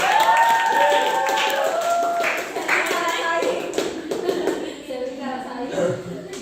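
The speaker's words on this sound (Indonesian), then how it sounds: "Tepuk tangan lagi, Pak." An audience in a classroom presentation claps, a dense patter of hands that starts loud and gradually thins, with voices speaking over the clapping.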